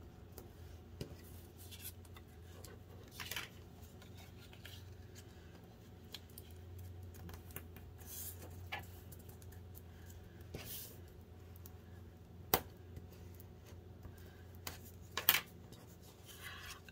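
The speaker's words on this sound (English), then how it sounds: "so now I can go ahead and fold under at my score line and burnish those." Card stock folded along a score line and burnished for a Christmas gatefold card, quiet close rubbing and scraping strokes with a few sharper taps and rustles, no talking.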